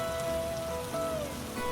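Steady rain falls on a cool rainy day, a soft, even patter that stays constant and fairly quiet with no voices.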